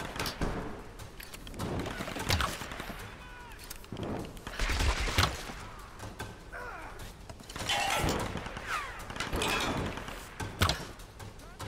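Assault rifle gunfire in the Tomb Raider video game, with bursts of sharp shots and impacts spread across the stretch over a bed of game sound.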